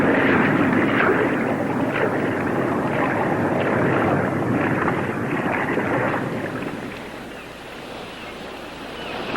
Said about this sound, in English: Suddenly, I was aware of a sound vibration. It could be an approaching ship.